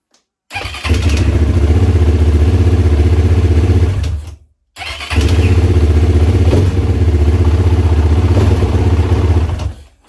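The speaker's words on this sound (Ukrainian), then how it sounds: "На відчуття мотор почав краще крутитись на заводку." A motorcycle engine cranks and catches after an overrunning starter clutch replacement, runs steadily and loud for a few seconds, cuts off briefly, then starts again and keeps running.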